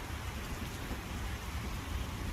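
Steady, dense rain falls as a sound effect in a school drama performance, a constant loud hiss with low rumbling underneath and no voices.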